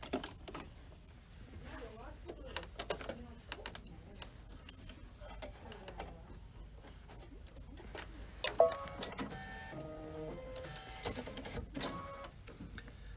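A Kimberbell embroidery machine stitches out dark green thread, giving a steady rapid mechanical whir and clatter with tapping pulses, close and moderately quiet, with a denser busier stretch toward the end.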